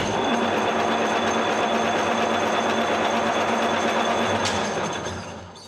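A TOS C-45 metal lathe runs with a steady mechanical whir and hum, close and constant, fading slightly at the very end.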